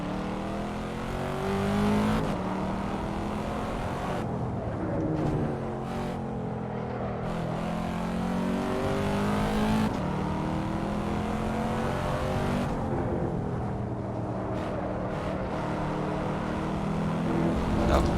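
Corvette C7 engine in the racing game Assetto Corsa roars continuously through a hot lap, rising and falling in pitch as it revs and shifts gears, loud and steady throughout.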